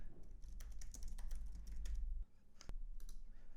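Fast, continuous keystrokes clatter on a computer keyboard, close and fairly quiet, over a low background hum with a brief sharp click near the middle.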